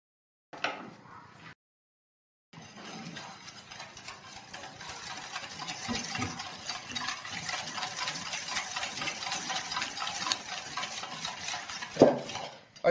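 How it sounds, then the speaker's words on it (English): A whisk or spoon stirs pastry cream mixture with flour in a bowl, making a rapid continuous clatter and scrape against the bowl. It starts after a short pause and keeps going with a brief knock near the end. "I stir the mixture well until it is smooth and consistent."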